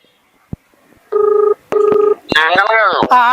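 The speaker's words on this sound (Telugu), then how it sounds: "నరేంద్ర గారు నాకు ఫోన్ చేస్తున్నారు" A telephone rings for an incoming call: two steady, evenly spaced electronic tone bursts, loud and close, then a warbling, sliding ring tone with a faint tap beforehand.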